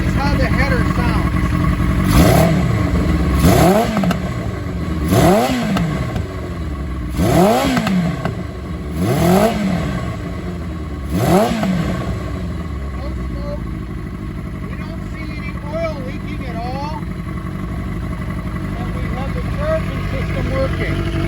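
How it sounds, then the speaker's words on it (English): Repeated throttle revs from a 1982 Kawasaki KZ550 LTD motorcycle roar through its exhaust header, six rising-and-falling bursts close by before it settles into a steady, slightly uneven idle. "So this is how the header sounds."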